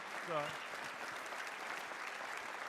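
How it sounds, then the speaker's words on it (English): A town hall audience claps for the mayor in a steady, moderately distant round of applause, with a voice briefly speaking over it at the start. "Let's give the mayor a round of applause"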